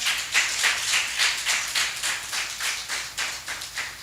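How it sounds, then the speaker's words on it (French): Rhythmic clapping in steady, evenly spaced bursts, a small studio audience applauding together at a moderate distance with no voices. "Sous vos applaudissements, s'il vous plaît. Encore plus fort, s'il vous plaît."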